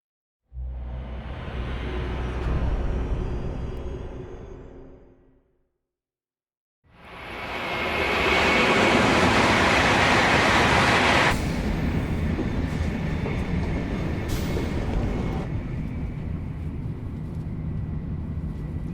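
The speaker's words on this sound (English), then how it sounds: "God, this train looks awesome." A train passes in the Yakuza video game. A loud rumbling roll fades out, a short silence follows, then a second heavy, bright rush of the train swells in and carries on steadily to the end.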